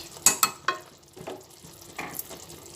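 Milk chicken simmers in a pan over a raised gas flame, seasoned with black pepper and garam masala, giving a faint sizzle broken by a few sharp stirring clicks early on.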